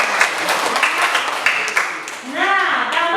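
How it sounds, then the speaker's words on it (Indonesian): Children in a classroom clap their hands together in a lively scattered burst of applause, with a teacher's voice speaking over and after the clapping. "tepuk tangan itu semua"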